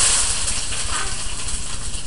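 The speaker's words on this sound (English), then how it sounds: "Once again, we love the sizzle." Onions sizzle in hot oil in a pan, a steady, close broadband hiss and crackle that runs continuously without talk.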